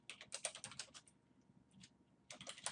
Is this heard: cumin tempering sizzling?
no